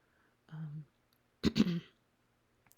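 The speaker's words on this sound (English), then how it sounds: "I know it's very un-ASMR to cough" A close cough, a short burst with a second quick hack, preceded by a brief throat sound, in an otherwise quiet room.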